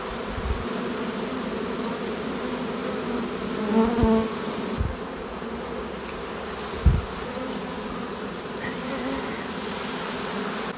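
A honey bee swarm clustered low on a pine tree produces a continuous droning buzz, near and steady, with a few individual bees passing close and faint outdoor background.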